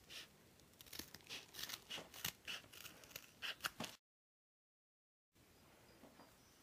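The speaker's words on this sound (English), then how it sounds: "So just go ahead and cut out these soles." Household scissors cutting a carpet-backed rubber floor mat into slipper soles, a quick run of crisp snips and crunching cuts, then a short silence before faint cutting resumes.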